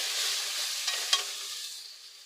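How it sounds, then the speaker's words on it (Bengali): Chili powder and cumin powder fry in a pan for a pointed gourd and prawn curry, a close hissing sizzle with a couple of sharp stirring clicks, fading gradually toward the end. "লঙ্কা গুঁড়ো এক চামচ জিরের গুঁড়ো দিয়ে এবার কষিয়ে নেব"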